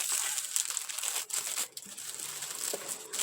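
Plastic packaging bag for a shop order crumpled and squeezed to push out the air, a continuous close crinkling and rustling with brief dips; no talking.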